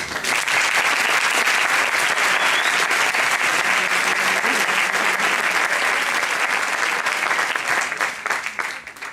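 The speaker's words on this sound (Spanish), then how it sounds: "me gustaría dar un aplauso para todos los participantes en este evento" Sustained audience applause for participants at the opening of a philosophy olympiad, a thick even roar of many hands clapping that holds steady and tapers slightly at the end.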